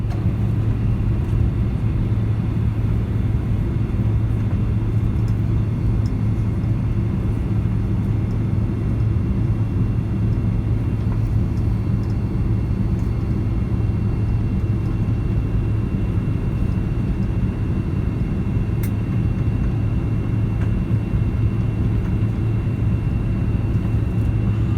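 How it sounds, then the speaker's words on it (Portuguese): Boeing 767 with Pratt & Whitney 4000 engines on the takeoff roll, heard as a steady, loud, deep cabin rumble with a constant engine hum that holds unchanged throughout. "Pratt & Whitney 4000, que equipam, né, os Boeing 767, o ruído deles é simplesmente fantástico"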